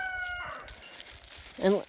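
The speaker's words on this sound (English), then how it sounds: "the hens are usually flying away from the roosters." A rooster crows briefly near the end amid faint background clucking and ambient noise.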